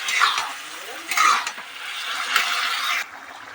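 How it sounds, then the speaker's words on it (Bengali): A spoon scrapes and stirs roasted chicken pieces with lentils in a pan while cooking a chicken curry, giving several rough, uneven bursts of metallic scraping and clatter close by. "এবার আমি এর মধ্যে দিয়ে দেবো তরকার ডালটা দিয়ে এটাকে ভালোভাবে নেড়ে দিতে হবে"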